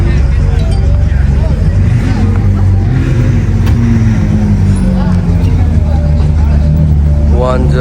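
A McLaren supercar's engine rumbling at a car meet in PIK, a deep steady drone with rising revs, loud and close, while several people chatter around it.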